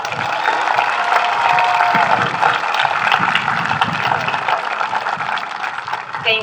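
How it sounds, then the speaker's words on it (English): An audience applauds graduating students at the Fremont Ross High School commencement in Ohio, a steady dense wash of clapping that holds for several seconds at an even level with no voices over it. "Let's give our students a round of applause."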